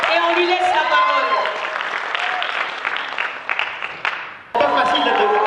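An audience at the Miss Congo-Canada 2016 pageant applauds, a dense clapping wash mixed with shouts and whoops that thins and fades, then a voice or music cuts back in abruptly near the end.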